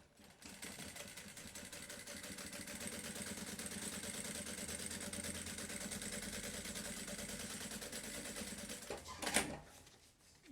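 A sewing machine joins two fabric pieces face to face for a personalized Bible cover, whirring in a steady, fast mechanical rhythm for about nine seconds before a brief clatter as it stops.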